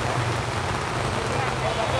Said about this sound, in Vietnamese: Vẫn còn ngồi ăn hồi nãy và bây giờ đã mưa rồi.